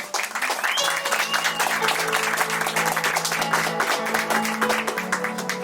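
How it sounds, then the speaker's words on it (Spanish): Audience applause at a Spanish-language book presentation, steady dense clapping throughout at moderate level, with faint voices and a few tonal sounds mixed in. "Por favor, un aplauso."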